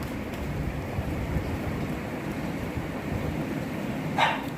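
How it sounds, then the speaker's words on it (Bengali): Steady rain falls with a dense, even patter and low rumble, a dog giving one brief bark near the end. "এই সময় বৃষ্টি শুরু হয়েছে"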